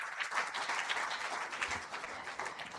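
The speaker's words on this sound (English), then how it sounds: "So can you applaud louder for all the winners?" Audience applause at an awards ceremony, steady dense clapping from a crowd in a hall, moderately distant and continuous without a break.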